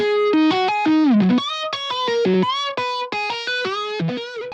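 Synth guitar lead with glide slides between notes and vibrato, bright and distorted with chorus, a quick melodic phrase heard alone and up front.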